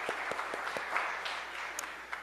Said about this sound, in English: yes, that's worth applause